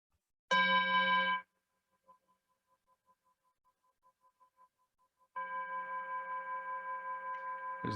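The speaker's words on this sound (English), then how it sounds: "As the gong fades," A meditation gong struck twice, with rich sustained harmonic tones; the first strike rings briefly and cuts off, faint pulsing resonance lingers between, then a second long ringing tone holds steadily to the end.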